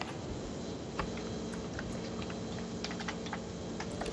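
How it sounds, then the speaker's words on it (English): Someone types an IP address on a computer keyboard while playing Minecraft, producing soft, quick, irregular clicks over a faint steady background hum. "I'm typing it in right now."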